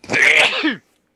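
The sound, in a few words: sneeze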